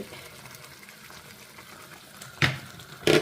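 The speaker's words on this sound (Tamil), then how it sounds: "இப்போது கொதிச்சிருச்சு" Water bubbles and simmers in a pot at a low, steady level, with two louder clattering bursts near the end.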